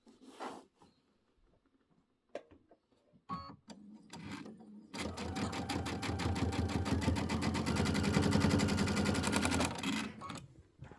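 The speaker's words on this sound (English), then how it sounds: "Then we'll cut these all apart and sew them back together." A sewing machine stitches fabric pieces for a pillow top, preceded by a few soft handling taps and rustles, then a steady rapid mechanical whir running for several seconds at close range.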